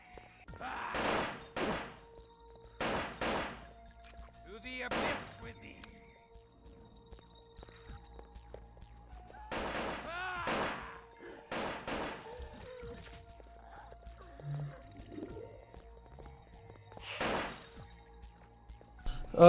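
Gunfire with incendiary ammunition in Vampire the Masquerade – Redemption: sharp, separate shots in small bursts of two or three, spaced by quiet gaps, crisp and fairly close.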